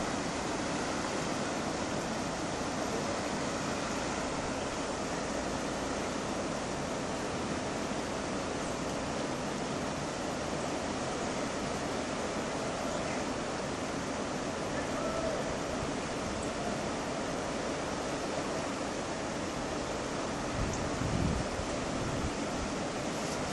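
Floodwater on the Laïta river at Quimperlé rushes past with a continuous dense roar, loud and unbroken throughout, with a low thump near the end.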